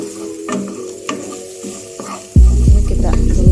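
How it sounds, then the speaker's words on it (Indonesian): Spices and onions sauté in a pan for garang asem chicken with a loud, close sizzle that swells suddenly midway, joined by scraping stirs and light clinks of a utensil against the pan. "Ini kita tumis terus ya sampai nanti layu dan wangi tentunya."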